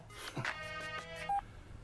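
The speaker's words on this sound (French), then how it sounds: "Son portable sonne continuellement." A mobile phone rings continuously in a dramatic film scene, giving a clear electronic trilling tone with a short beep pattern, up close and alone.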